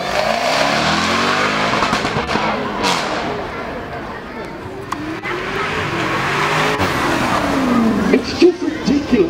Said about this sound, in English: It's just ridiculous seeing that car move that quickly.